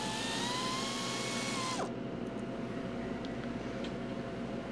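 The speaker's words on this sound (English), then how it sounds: "We're going to switch over to my air ratchet in a 14mm socket. Remove the caliper mounting bolts." An air ratchet with a 14mm socket on a swivel runs a steady high whine for almost two seconds, loosening the rear brake caliper mounting bolts on a 2008-2013 Toyota Highlander, then stops and leaves a shop hum with faint clicks.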